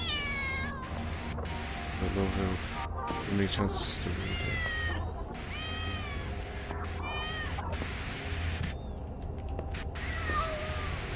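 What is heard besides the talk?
cats meowing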